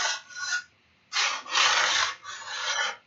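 A file scraping along a ski edge during tuning, three rasping strokes close up with short pauses between them, gritty and loud with no talk.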